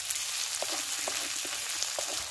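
Onion sizzles in a pan with garlic, ginger and cumin paste, a steady hissing fry broken by a few soft stirring scrapes, close and alone with no voices.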